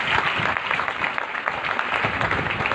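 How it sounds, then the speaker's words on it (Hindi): Loud, dense applause from a crowd, steady and continuous throughout, close and enthusiastic with no pauses. "आप सबके लिए जोरदार तालियां।"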